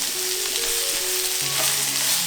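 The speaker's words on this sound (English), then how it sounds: "So I'm just adding my onions. The onions must be red onions." Red onions sizzle and fry in oil in a pan, a steady, close broadband crackle that runs without pause and swells a little toward the end.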